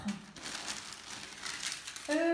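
Close, steady crinkling and rustling of a gold paper foil balloon shaped like the number 4 as it is handled, and a brief voice breaks in at the end.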